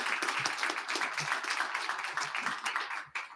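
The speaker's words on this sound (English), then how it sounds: "Give them a round of applause in absentia." Audience applause at a fall speaker series talk, steady dense clapping from a room of people at moderate level, tapering off near the end.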